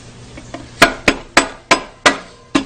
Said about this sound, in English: Go ahead and just tap it smartly with the back of my hammer.